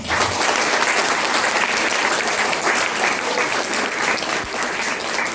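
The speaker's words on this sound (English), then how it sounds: "So clap for them." An audience at a school birthday celebration and debate competition claps for the debate teams, a steady, loud roar of many hands that holds evenly for over five seconds with no talking over it.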